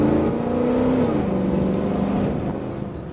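A 1977 Ford Bronco engine pulls through a hard performance launch, a moderately loud sustained roar that climbs and then eases slightly as it moves on, with no voices.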